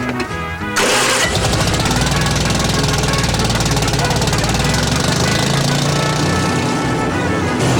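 A tank engine starting up at a tank training school. It cranks briefly, then catches into a loud, steady, knocking idle that runs close and continuous to the end.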